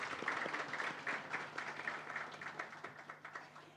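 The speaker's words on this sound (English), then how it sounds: "A huge round of applause for them." An audience at a business school HR conclave claps steadily, thin and fairly faint, as if from a modest crowd some distance away.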